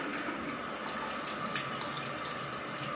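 Tap water runs steadily into a sink, a constant, quiet hiss and splash heard alone without any talk.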